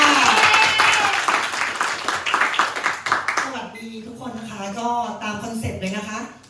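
Audience applause welcoming a presenter at a business presentation, loud clapping from a crowd that tapers off halfway as a voice begins talking over the last scattered claps.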